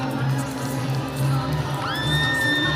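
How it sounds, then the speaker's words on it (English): A crowd cheers and whoops for a fighter's entrance at a super heavyweight boxing event, a loud continuous roar with a whistle rising near the end. "And Beto Ortiz has a huge crowd with him tonight"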